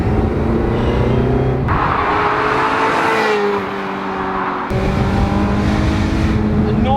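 A Ferrari 355 engine revs hard and high, holding a loud, rising wail, dropping briefly to a lower tone mid-way and then climbing back to full scream.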